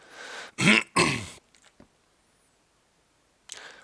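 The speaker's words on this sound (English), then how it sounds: "I had a cough attack" Two harsh, loud coughs in quick succession, followed by a brief quiet pause and faint scuffling, then another short burst at the end.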